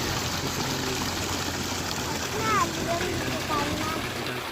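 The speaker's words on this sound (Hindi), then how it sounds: "सामने ट्यूबवेल चल रहा है।" A tubewell pump runs in a rice field, sending water flowing in a steady, broad rushing wash that continues throughout with no pauses.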